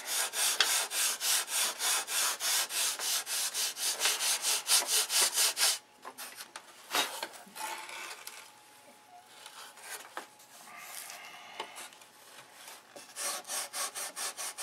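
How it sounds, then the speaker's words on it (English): Steady back-and-forth sanding of a high spot on wood blocks, rhythmic rasping strokes loud and close for several seconds, then quieter scattered rubbing with pauses before the strokes resume. "Now I can already see that there's a high spot there, so we're gonna have to sand that down."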